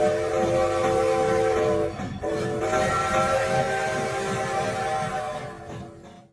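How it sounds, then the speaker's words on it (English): Train whistle near Nashville's Union Station, a long sustained harmonic blast that holds steady for several seconds with a brief dip, over low rolling rail rumble, fading away at the end. "a distant whistle is said to rise from the darkness"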